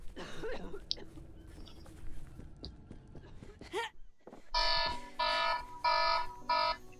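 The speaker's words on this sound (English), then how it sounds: "timer just ran out" A kitchen timer's alarm goes off in four loud, evenly spaced beeping bursts after a stretch of quieter background sounds and game noise.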